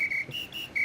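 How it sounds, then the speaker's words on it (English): A whistle blown during a walk into Tamarindo at summer camp, giving several sharp, high shrill blasts in a broken rhythm, loud and close with no talk over it. "What's the whistle for?"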